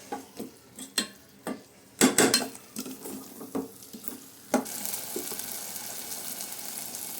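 Spice paste for stuffed eggplant curry frying in hot oil, with a series of sharp scraping stirs followed by a steady close sizzle, no voices.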